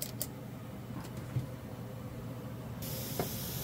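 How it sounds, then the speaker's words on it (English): A real car-painting spray gun running off a full-sized Harbor Freight air compressor gives a steady, fairly faint hiss of spraying air with a few short louder bursts. "put on the spray gun, the real, actual spray gun for painting cars, and we'll see how that works"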